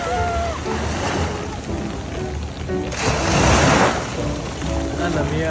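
Heavy rain hisses steadily on a beach by the sea, swelling louder for a moment midway, with voices and a bit of music mixed in.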